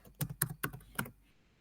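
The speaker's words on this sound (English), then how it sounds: "I don't know why I keep on typing groups" Four crisp, evenly spaced keystrokes tap on a computer keyboard, fairly close and clear, then stop and leave quiet room tone.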